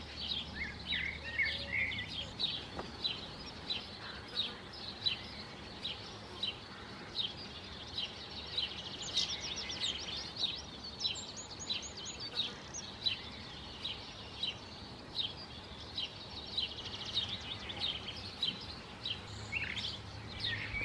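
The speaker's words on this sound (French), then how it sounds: "on voit les oiseaux qui viennent boire." Small birds chirping and calling around a garden pond on a warm late morning, with repeated short high tweets scattered throughout over a quiet outdoor background.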